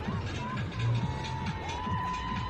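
Crowd cheering and whooping at the end of a Sheffield Hallam versus Sheffield University varsity lacrosse game, lively mixed voices at moderate distance with some shouting over the noise.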